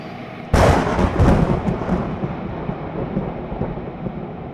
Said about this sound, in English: Thunder cracking open the black sky.